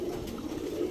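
A pair of Huma pigeons with deep red eyes coos softly and briefly, a low, throaty murmur heard close up without talk.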